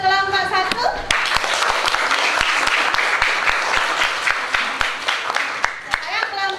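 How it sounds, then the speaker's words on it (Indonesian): A classroom of pupils applauds a presenting group, scattered loud individual claps ringing out over a busy wash of clapping, with children's voices audible at the start and end. "Tepuk tangan untuk kelompok 1."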